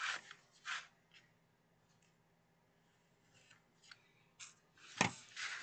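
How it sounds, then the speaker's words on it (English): Scissors cut a single sheet of paper for a Christmas window craft, angling in at the bottom and then straight across, giving a few close, crisp snips in short bursts separated by quiet pauses. "I'll just angle in here at the bottom and then cut straight across here"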